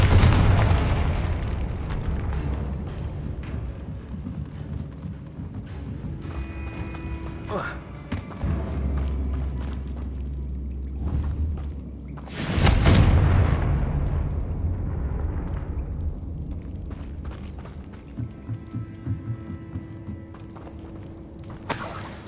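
Confringo fire spells burst in Hogwarts Legacy, sending out booming blasts and rumbling impacts, two of them especially heavy, over game music and ambience.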